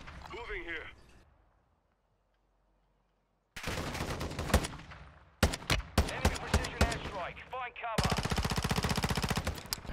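Gunfire in Warzone 2.0 arrives as loud, rapid automatic bursts and sharp single cracks, separated by a brief silence, with players talking between and over the shots.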